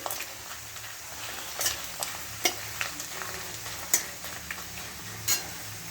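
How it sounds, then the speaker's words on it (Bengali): Papad frying in hot oil gives a steady crackling sizzle with sharp pops and ticks scattered through it, close and alone with no voices. "পাঁপড়টা ভেজে নিই"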